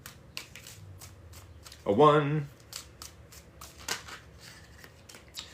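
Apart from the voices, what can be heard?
shuffling tarot cards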